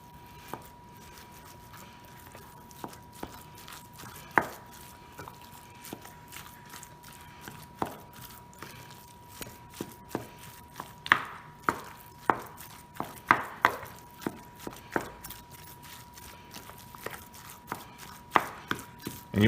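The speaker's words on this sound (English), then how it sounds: "I'll just mix this all together with a spoon." A spoon works through a meatball mixture in a bowl with soft, irregular thuds and squishy taps repeating every second or so, close and fairly quiet, with no voices.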